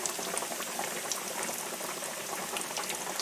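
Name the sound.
pork chops frying in hot oil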